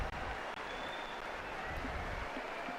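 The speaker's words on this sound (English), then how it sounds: "from the change in the noise coming from the crowd, Pope Francis has just entered the room" Applause and murmuring from a large audience in the Vatican audience hall as Pope Francis enters, a steady, distant wash of clapping and crowd noise throughout.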